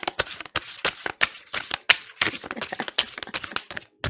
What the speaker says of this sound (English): Now this deck is a little difficult to shuffle